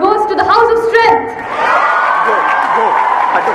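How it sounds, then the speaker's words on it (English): School students in an assembly hall cheer and whoop loudly for the House of Strength, a dense crowd roar with shouts and high children's voices rising above sustained clapping. "We want the House of Strength cheering for all of them."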